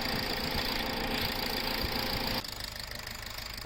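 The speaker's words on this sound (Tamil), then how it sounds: "ஓகே, ஃபேன் இப்போ கரெக்டாக ஓடுது." A car's radiator cooling fan whirs steadily beside an idling engine with the air conditioning switched on, the broadband roar dropping to a quieter, thinner hum partway through.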